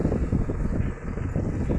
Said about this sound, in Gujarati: કા જુઓ પવન આવે છે